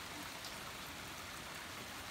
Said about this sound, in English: it's raining pretty hard out right now.